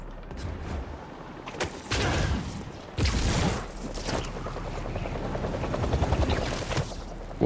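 Helicopter rotor blades in the video game Spider-Man 2, a steady mechanical whir with bursts of louder action and impacts over the top, continuous and fairly loud throughout.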